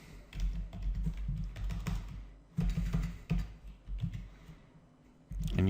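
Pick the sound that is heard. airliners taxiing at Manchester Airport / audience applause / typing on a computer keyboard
typing on a computer keyboard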